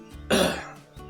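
A single rough cough and throat clearing burst, loud and close, lasting about a third of a second with faint breathy sounds around it.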